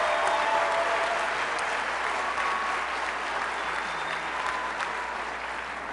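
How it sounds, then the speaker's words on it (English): A room of young Texas Democrats gives each other a round of applause, a dense, loud, continuous wash of clapping with a faint crowd murmur beneath, tapering slightly toward the end. "let's give each other a round of applause for being here today."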